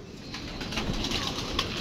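Pigeons cooing softly in a rural outdoor setting, low murmuring coos and light rustling steady across a short stretch, with faint wing movement and background hiss.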